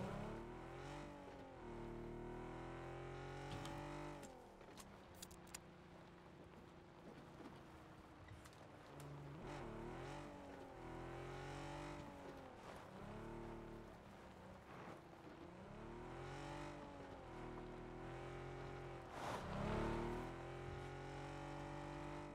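A car engine in the PUBG battle royale game drives and revs repeatedly, the pitch rising and falling through several gear-like sweeps over about twenty seconds, heard close and continuous with no speech.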